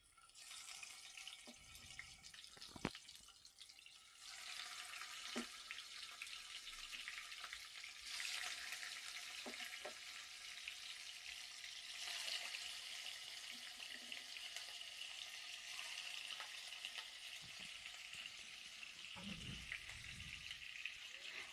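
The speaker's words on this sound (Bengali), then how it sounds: "এবার আমি একে একে মাছগুলো তেলে ছেড়ে দেব।" Fish fried in hot oil on a stove gives a steady, dense sizzle throughout, with a few sharp knocks and clinks of cookware near the start and a brief low rumble toward the end.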